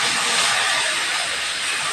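Spice paste added to hot oil in a wok with cumin seeds and a bay leaf, giving a loud, steady, broad sizzle that holds evenly throughout without any voices.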